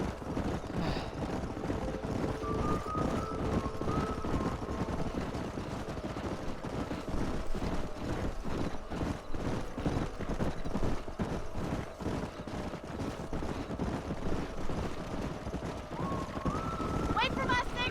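Horses' hooves clatter in a steady galloping rhythm through a Red Dead Redemption canyon drive, continuous and mid-distance, with people talking over the herd throughout.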